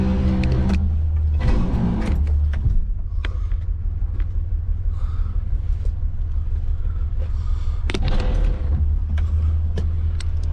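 Abandoned 1967 Ford Galaxie 500 with no working brakes rolling and rumbling, loud low rumble with bursts of clatter and scraping at the start and again near the end, steady engine-like drone between.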